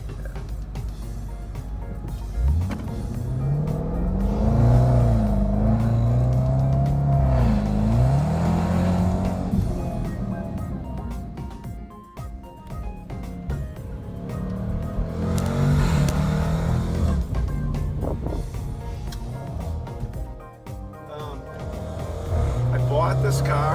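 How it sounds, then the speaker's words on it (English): Range Rover SVR engine revving repeatedly, rising and falling through several pulls with crackling exhaust pops, heard from inside the car with people talking over it. "So when you go, it gives that loud crackling sound."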